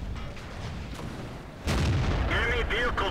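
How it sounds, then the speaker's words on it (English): Tank cannon fire in World of Tanks booms out as a sudden loud blast midway, following a rumbling engine background, with a commentator's voice heard over the battle noise. "his second shot is a bang on target hit, picking up his first kill"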